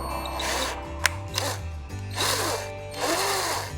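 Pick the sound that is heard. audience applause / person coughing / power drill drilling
power drill drilling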